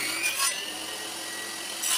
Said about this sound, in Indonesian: Untuk pemurusan saya menggunakan gergaji seperti ini atau table saw